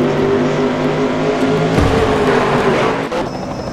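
Race cars competing at Watkins Glen roar past in a dense, continuous engine wash, with a louder car sweeping by near the middle and engines easing off at the end.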